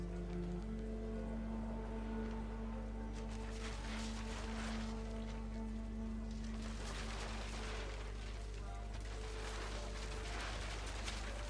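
Steady rain pouring down in the game What Remains of Edith Finch, a dense hiss of drops drumming on a tent over a constant low hum and faint sustained tones, swelling slightly in the middle.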